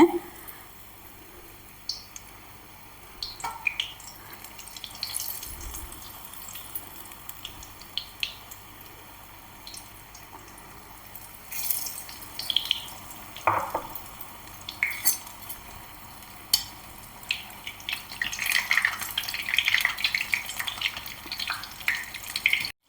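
Sweet potato masala bonda fry in boiling oil over low heat with a faint, steady bubbling hiss, broken by occasional soft clicks and clatter of utensils.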